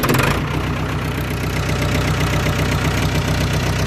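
A tractor engine catches with a brief rough burst at the start, then settles into a loud, close, steady idle with a regular low chugging knock throughout.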